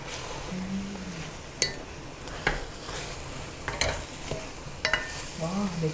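Mushrooms being stir-fried in a pan for a vegetarian jjamppong, a soft steady sizzle broken by occasional sharp clinks and scrapes of a utensil against the pan, fairly quiet throughout.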